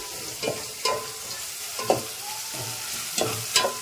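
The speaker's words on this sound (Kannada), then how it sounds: "ಈರುಳ್ಳಿ ಸ್ವಲ್ಪ ಫ್ರೈ ಮಾಡ್ಕೋಬೇಕು." Onions fry in a pan with a steady sizzle, broken by about six sharp scrapes and clinks of a spoon stirring at irregular intervals, close and clear with no talking.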